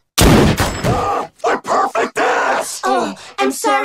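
A single loud gunshot from the Family Guy cartoon cracks right at the start, followed by continuous talking from cartoon voices.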